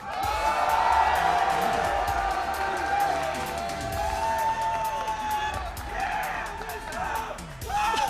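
Spectators at an N64 Smash Bros. tournament's grand finals cheer and shout for the player Wizrobe, a sustained crowd roar mixed with game sounds and voices that rises and dips over several seconds.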